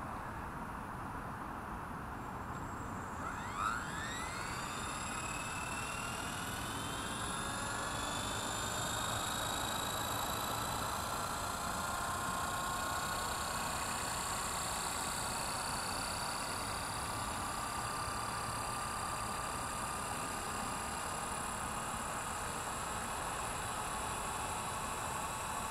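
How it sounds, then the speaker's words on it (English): A Blade 230s V2 RC helicopter at twilight spooling up for takeoff, its rotor and motor whine rising steadily in pitch over a few seconds and then holding a sustained hum against a hissy outdoor background. "Spool up and take off"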